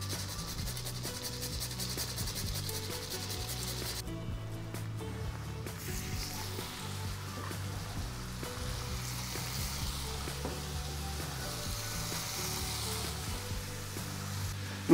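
Meat browns in a frying pan for a well-spiced peasant dish, making a faint, steady sizzle mixed with soft rubbing and scraping sounds.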